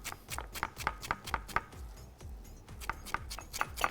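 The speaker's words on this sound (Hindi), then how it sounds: "फाइन चॉप कर लिया।" Fresh mint is finely chopped with a knife on a board, a close, steady run of quick crisp blade taps with no talk over it.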